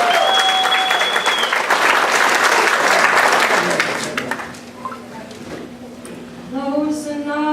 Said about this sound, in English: Please give Emma Meter a nice round of applause.